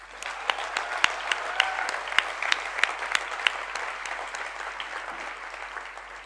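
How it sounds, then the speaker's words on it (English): An audience at a school graduation ceremony claps in steady, sustained applause, with a few sharp individual claps standing out, moderately loud and without speech. "I think they deserve a big round of applause."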